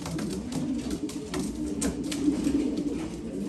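Low rolling pigeon coos rise softly from a breeding loft as newly paired young birds are put together, repeated murmurs over a constant rustling background.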